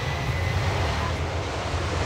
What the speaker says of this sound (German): Und wenn man dann wieder eine Startgeschwindigkeit erreicht hat, das sind ungefähr 280 Stundenkilometer, dann geht das Flugzeug wieder in die Luft.